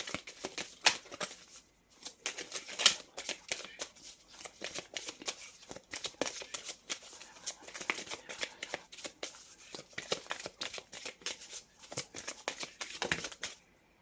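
Tarot cards being shuffled by hand, a long run of crisp riffling flutters and slaps in quick irregular bursts, close and clear, with no talking.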